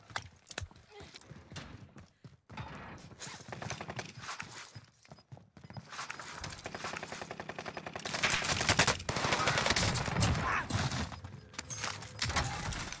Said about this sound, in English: Why was he just shooting?